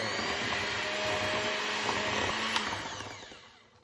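An electric mixer whirs steadily through keto blueberry cheesecake filling with sweetener and extracts, a loud continuous motor drone that holds level before tapering off near the end, with no voices.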